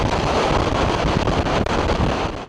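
A boat speeds across the water at about 50 km/h, with loud roaring wind buffeting the microphone and rushing water mixed into one dense, close wash of noise that cuts off abruptly.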